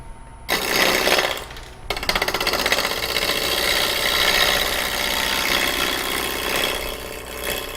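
A woodturning lathe cuts a natural edge bowl, the gouge making a loud, continuous rattling, chattering rasp close by, starting after a brief pause and running on without talk.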